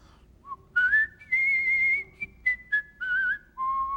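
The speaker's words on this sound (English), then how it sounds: "going to whistle us a little tune as we go to break" A man whistles a short, lilting tune on a golf radio talk show: clear, close melodic phrases with a few brief breaks, with no talking over it.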